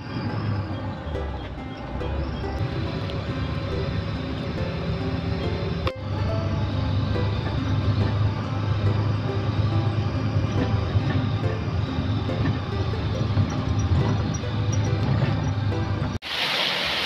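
A jeepney approaching on a road near the sea, a continuous low rumbling engine drone that holds steady for many seconds before cutting off abruptly near the end.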